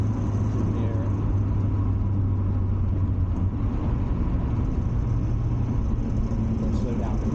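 Mazda MX-5 NA driving on a wet winter road near Hethel, Norfolk, heard with the window open: a steady engine drone and tyre rumble with road noise that holds evenly throughout.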